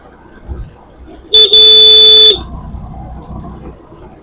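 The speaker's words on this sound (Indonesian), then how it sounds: "Setiap tikungan kita harus klakson." A vehicle horn blares once in a long, loud, steady blast lasting about a second, sounded at a bend on a dirt road between Bobong and Nggele on Taliabu Island, with low road rumble before and after.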